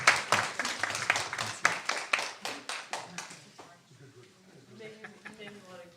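A school board meeting audience gives a short burst of distinct hand claps, loud and close at first, then thinning out and fading as voices take over in the room.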